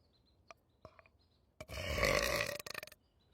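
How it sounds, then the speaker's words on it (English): A loud, drawn-out burp produced on command, about a second long and ending in a short rattling tail, preceded by faint clicks and small mouth sounds in an otherwise quiet room. "There's a burp out, and it's called a burp in."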